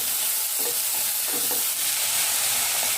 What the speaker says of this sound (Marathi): एखादा मिनिटभर आपल्याला ह्या अशा तेलात छान परतवून घ्यायचं आहे